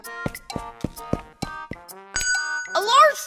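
A bell on a restaurant table is struck over and over in a cartoon, bright dings ringing several times in quick succession, close and clear, followed by a voice talking.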